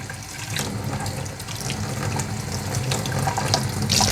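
Tap water runs steadily into a sink while a fish breeding container is rinsed out, a continuous close splashing flow with no voices.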